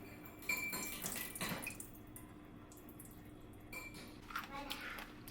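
Liquid from salted radish is poured out of a container for kimchi, making faint splashing and trickling in two short bursts with quiet kitchen sounds between.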